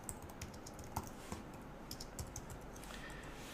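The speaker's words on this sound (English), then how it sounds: "And so I just begin typing away." Fingers tap quickly on a computer keyboard, soft irregular clicks at a close distance, fairly faint over a quiet room hum.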